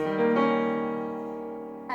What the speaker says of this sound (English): The flat 7 would sound like this.